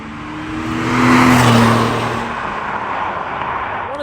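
A Porsche 911 Carrera S 997 convertible drives past, its engine note swelling to a loud peak then easing into a steady road roar with tyre and wind noise.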